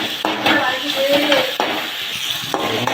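Onion and tomato sautéing in a pan for a mushroom curry, a steady close sizzle broken by several sharp scrapes and stirring knocks of a spoon against the pan.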